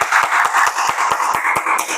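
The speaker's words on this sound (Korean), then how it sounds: "우리 박수로 한번 찬양하겠습니다" Rhythmic hand clapping in praise from a church congregation during a Sunday worship service, about nine steady claps over two seconds under a continuous wash of singing or crowd voices.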